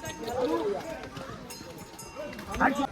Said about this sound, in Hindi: ये दूसरे घोड़ों के साथ बजती हुई जा रही है